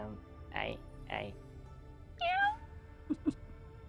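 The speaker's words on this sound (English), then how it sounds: "I mean, it should be Suki's pet kitten" Pet kitten in the video game Ultimate Alliance 3 gives several short, high meows, two close together then a longer rising cry and two brief chirps, heard over a low background.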